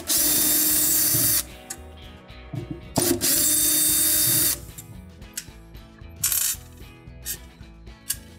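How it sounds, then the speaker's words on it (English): A power driver whirs in two long bursts to back out the two T15 screws from a Viking cooktop burner base, followed by small metallic clinks and rattles as the screws and parts are handled up close. "Remove the two T15 screws."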